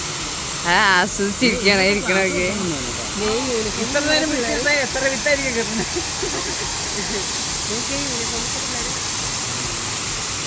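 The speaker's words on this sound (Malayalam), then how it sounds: "ഈ ഒരു വെള്ളച്ചാട്ടത്തിൻ്റെ ഉള്ളിൽ കയറിക്കൊണ്ട് നമുക്ക് ഈ ഒരു വെള്ളം ചാടുന്ന ഈ ഒരു സീനൊക്കെ കാണാൻ പറ്റും" Steady, loud rushing roar of a waterfall at KL Bird Park, heard from inside behind the falling water, with someone talking over it throughout.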